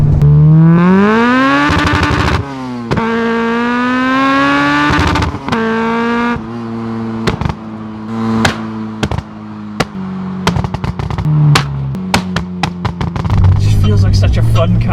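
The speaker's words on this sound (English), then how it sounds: "I love how you can just live on the limiter on these things" Honda EP3 Civic Type R engine loud and close inside the car, climbing through the revs and then stuttering in rapid bursts against the limiter, with sharp pops between pulls and voices under it.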